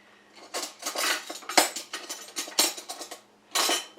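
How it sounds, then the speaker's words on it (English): A metal spoon clinks and scrapes against a casserole dish holding a tomato-zucchini casserole, in a run of close, bright, uneven knocks and scrapes with short pauses between them and no talking. "And I think I'll use a spoon."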